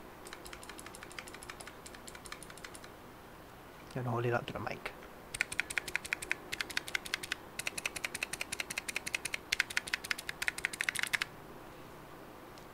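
Key switches on a cheap six-switch macropad with a knob are pressed in quick, close clicking bursts, with a short spoken remark between runs.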